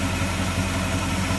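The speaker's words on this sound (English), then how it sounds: "See how smooth that 390 runs." A 1966 Ford Fairlane GTA's 390 V8 idles with the hood open, giving a steady, even low rumble that holds for the whole moment with no talking.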